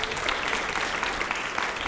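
Studio audience on a Hindi political TV talk show bursts into a short round of applause, dense clapping heard up close for a brief moment.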